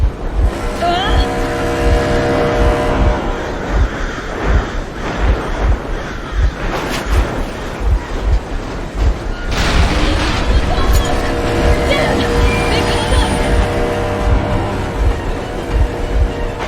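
A vehicle engine runs steadily in the Metro Exodus video game, a loud low rumble with rhythmic pulsing and humming tones. Voices talk over it.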